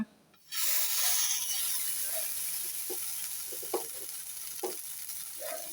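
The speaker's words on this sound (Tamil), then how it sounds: "வாங்க இப்போ மீனை எடுத்து அதில் போட்டு ஃப்ரை பண்ணலாம்" Small fish frying in hot oil on a griddle, a steady close sizzle and hiss that starts abruptly and continues throughout with occasional soft pops and crackles.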